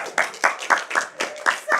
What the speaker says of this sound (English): Can I hear some claps?